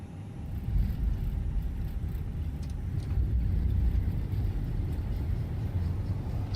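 Airbus A320 thrust reversers on landing in a flight simulator, a low, steady engine roar that swells after the first second and holds loud, with no talk over it.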